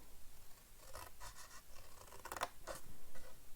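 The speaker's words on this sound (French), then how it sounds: "Je vais prendre ma paire de ciseaux" Scissors cut through a cardboard box in a few short, crisp scraping snips spaced irregularly, close and fairly quiet.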